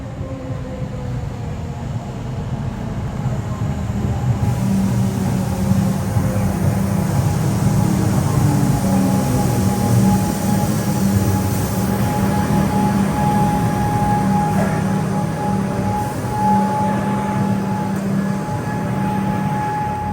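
Onboard a Melbourne Comeng suburban train on the Sunbury line, a steady rumble of wheels and motor fills the cabin, with rising and falling whining tones from the traction gear as it runs along, loud and close throughout.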